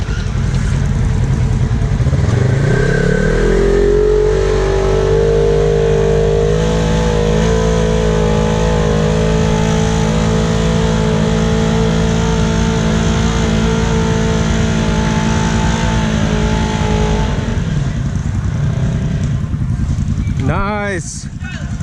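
An off-road vehicle's engine revs hard and holds a high, strained drone while climbing a hill at Big Fox Run, loud and close throughout, with people talking over it.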